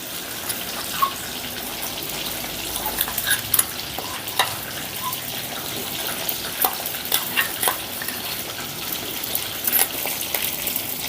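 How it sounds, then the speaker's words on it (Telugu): Onion paste frying in a pan for bitter gourd masala curry, a steady close sizzle broken by repeated scraping stir strokes and light clinks, without any voices. "ఈ ఉల్లిపాయ పేస్ట్ని ఒక రెండు నిమిషాలు ఫ్రై చేసుకుందాం"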